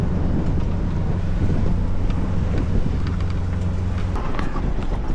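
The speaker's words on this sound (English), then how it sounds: "The wind has been absolutely freaking bonkers." Strong wind on a sailboat buffets the microphone in a loud, continuous roar with no let-up, heavy low rumble throughout and no voices.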